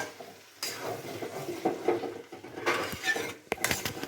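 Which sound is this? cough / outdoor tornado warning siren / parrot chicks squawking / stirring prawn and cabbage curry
stirring prawn and cabbage curry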